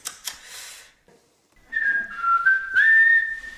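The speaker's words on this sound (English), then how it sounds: "Whistling, of course." A person whistles a short wavering tune, preceded by a few brief breathy bursts and a pause, fairly close and clear.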